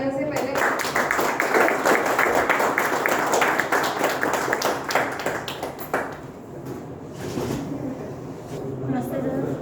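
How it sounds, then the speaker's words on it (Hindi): Meeting audience at an LIC branch in Jaipur breaks into sustained applause for an honoured guest, dense clapping filling the room for several seconds before thinning out as a voice begins speaking. "तो इनके लिए जोरदार तालियों से पहले"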